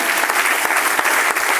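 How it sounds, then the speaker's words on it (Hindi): Sustained applause from an audience greeting the chief guest at a meeting, dense and steady clapping with no talk. "नितेश सर जी के लिए जबरदस्त तालियां।"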